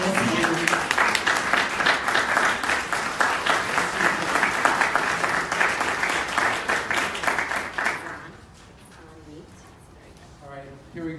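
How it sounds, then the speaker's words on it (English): A packed room at a Kansas political talk welcomes the speaker with sustained, dense applause for about eight seconds, then it drops away and quieter scattered noise remains. "that was several rounds of applause"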